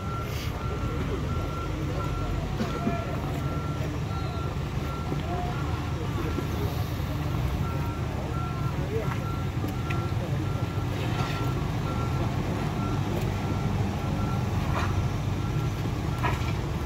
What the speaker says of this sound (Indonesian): Di sana juga ada mobil dump truck yang membawa batu untuk penimbunan tanjakan Batu Jemba.